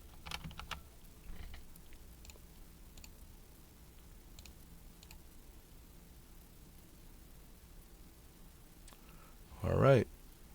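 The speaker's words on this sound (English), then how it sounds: "then type in the password and username and password that we created before" Sparse, faint keystrokes on a computer keyboard tick through a quiet room as login details are entered, with a brief louder thump near the end.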